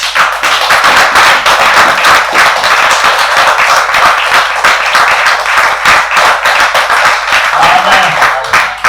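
A church congregation applauds and cheers for itself, dense loud clapping running steadily throughout with crowd voices and shouts mixed in.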